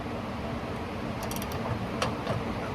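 An 18 mm ratcheting wrench clicks steadily while being turned during a car wheel alignment, a close, continuous mechanical ticking with a few sharper metallic clicks over a constant background hum.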